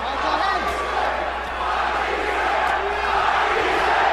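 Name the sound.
boxing crowd chanting Matthysse's name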